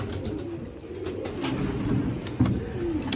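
Pigeons cooing softly in a pigeon-keeping loft in Sialkot, Pakistan, with low repeated coos layered over a steady murmur of birds and a brief flutter near the end.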